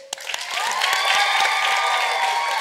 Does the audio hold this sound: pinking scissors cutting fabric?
no